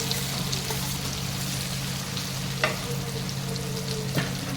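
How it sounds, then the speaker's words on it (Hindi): Patra rolls sizzle in a fairly generous amount of hot oil, a steady frying hiss from start to finish with a couple of sharp clinks from stirring or turning in the pan. "अब डाल देंगे अपने पात्रे। इसमें तेल थोड़ा ज़्यादा ही लगता"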